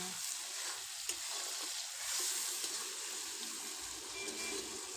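Onion and tomato frying together in a pan with salt and turmeric, a steady close sizzle with crackling and the occasional scrape of stirring, continuous with no talk over it.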